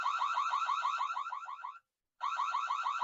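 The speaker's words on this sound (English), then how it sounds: "So up here you also have this alarm function." A security camera app's alarm blares in a rapid warbling electronic pulse, loud and close, cutting off briefly before starting again, with no voices.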